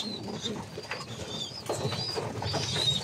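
Pigeons, including a black pigeon, cooing in a loft: soft, low, repeated coos with a few higher chirps, close and moderately quiet over a light background hum.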